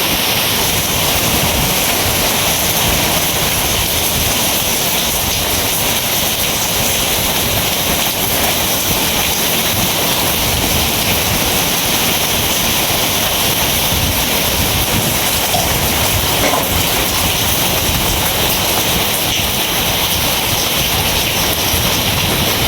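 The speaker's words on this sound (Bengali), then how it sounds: "প্রচুর পরিমাণে বৃষ্টি হইতেছে," Heavy rain roars steadily and densely throughout, driven by strong wind during a hailstorm, a continuous loud wash with no pauses.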